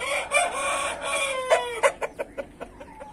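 A rooster crows nearby, one drawn-out call followed by a run of short, sharp clucks and squawks from the fowl, moderately loud with no voices.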